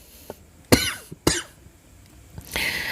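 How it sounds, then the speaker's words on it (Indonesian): Two sharp, harsh coughs close to the microphone, a brief pause between them, with a little shuffling afterward. "Sorry teman-teman, agak batuk ya teman-teman ya"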